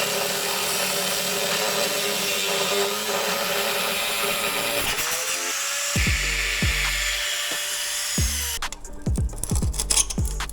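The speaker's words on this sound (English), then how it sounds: "You can grind on it." A power tool grinds steadily on metal at a UK MOT station, loud and continuous for several seconds before cutting off into clattering, irregular bursts near the end.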